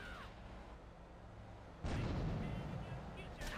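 Grenade explosion in Grand Theft Auto 3, a sudden muffled boom midway that lifts into a sustained rumble, under low game ambience, with a sharp burst near the end and a voice.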